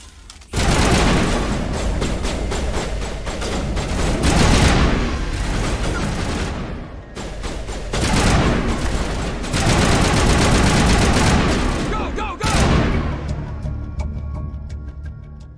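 A firefight in Mass Effect, with dense, continuous automatic gunfire and booming shots sustained loudly for most of the clip before cutting off near the end.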